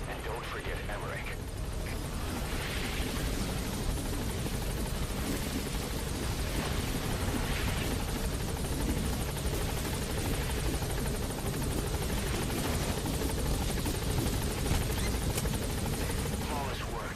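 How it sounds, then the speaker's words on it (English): Helicopter touching down in the video game Metal Gear Solid 5: The Phantom Pain, a steady, loud rotor and engine roar filling the whole stretch with game voices talking over it. "the chopper's touching down"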